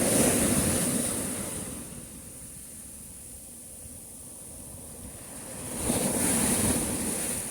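Surf breaking on a beach at Huatulco, Mexico: a loud rushing wash that fades into a quieter hiss, then another wave swells in near the end, with wind buffeting the microphone throughout.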